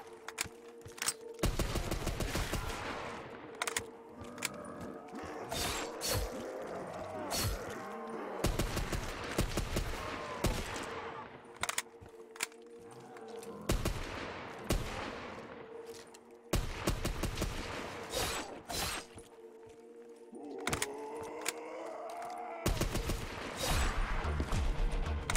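Repeated bursts of gunfire ring out in Black Ops 3 custom zombies on the Minecraft Verrückt map, loud sustained volleys broken by short pauses, with a steady game hum underneath.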